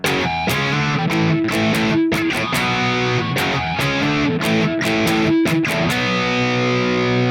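Heavily distorted electric guitar chugs through a loud, driving breakdown riff, with sharp rhythmic stops and palm-muted hits, played alone and continuously.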